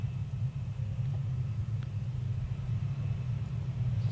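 Safety car and Radical race cars circulating at the Estoril circuit during the Radical European Masters, a steady distant engine rumble and road drone that holds evenly, without any voices.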